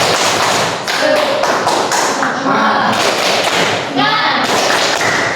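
Students in a classroom do a rhythmic 'tepuk semangat' group clapping chant, a dense run of sharp hand claps with patterned beats, loud and close, with voices joining in.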